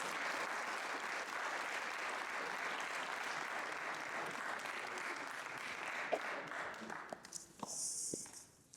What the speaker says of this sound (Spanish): los invito a recibirlos a ambos con un caluroso aplauso